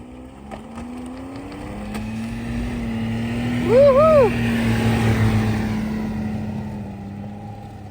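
A snowmobile engine on a snowy trail in Hiawatha Highlands makes a steady droning hum that swells to a louder peak midway and then slowly fades.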